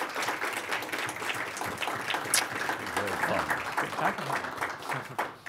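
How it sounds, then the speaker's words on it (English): An audience at a Free Market Road Show conference in Grand Rapids applauds, producing dense, steady clapping that lasts several seconds before tapering off at the end. "Can we get a round of applause for John Chisholm, Dylan Palman for our last"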